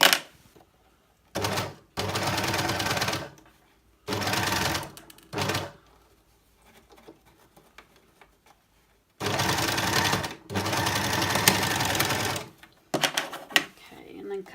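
Sewing machine stitching reusable rice-filled heat packs in several loud, rapid bursts of needle clatter at close range, separated by quiet pauses with faint handling noises.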